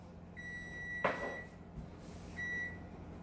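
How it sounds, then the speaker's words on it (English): A kitchen oven timer beeps twice after a turkey burger finishes cooking, each beep a short steady electronic tone heard clearly over a quiet room, with a brief clatter between them. "Then we should be getting a beep here in a couple seconds."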